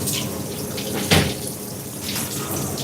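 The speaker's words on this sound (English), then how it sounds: "let me drain off the excess water" Excess water drains from cooked pasta in a work kitchen, a steady close pour of running water with one brief, louder splash near the middle.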